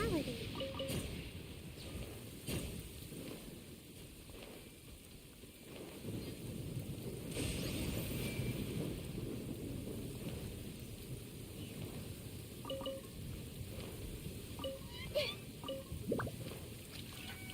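Thunder and rain in the video game Genshin Impact: steady rainfall with a low rolling thunder rumble and scattered drips, moderately quiet and continuous throughout.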